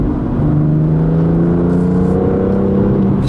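A 2017 BMW M2 coupe's turbocharged six-cylinder engine accelerates from inside the car, a loud, rising drone climbing smoothly in pitch over a few seconds.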